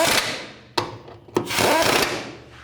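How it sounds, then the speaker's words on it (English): Ratchet and 19mm socket snugging a front lower control arm bolt on a Toyota RAV4, heard as close, rough mechanical clicking and rubbing with two sharp knocks in between. "And then just snug that up with a 19mm socket."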